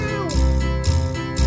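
In a children's song animation, a cartoon kitten's meows repeat about three times in a steady rhythm, loud and close, over bouncy music.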